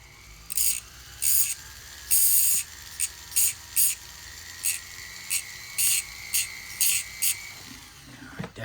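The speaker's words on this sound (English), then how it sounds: "I'm gonna have to hit this quickly with a little grinder" Small grinder touching up a sharp edge on a 14k white gold bar: about a dozen short, bright whirring bursts of roughly half a second each, spaced irregularly over a low background hum, close and without speech.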